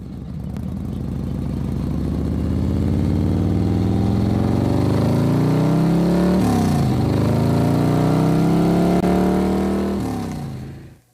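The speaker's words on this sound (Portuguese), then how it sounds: "ouvia o ronco do motor V8, adicionados aos quilos de pressão adaptados ao motor muito bem projetado" A V8 car engine roars loudly and steadily, rising in pitch as it accelerates, dipping briefly as if shifting gear, then climbing again before cutting off abruptly, with no voices.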